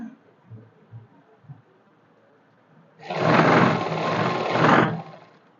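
A sewing machine runs a seam on a salwar in one loud, steady burst of whirring that starts abruptly after a few soft handling noises and lasts about two seconds, close by.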